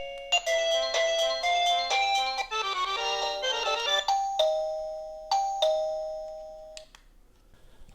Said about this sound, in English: So you've got quiet or really quite loud, and then you've got various different tones.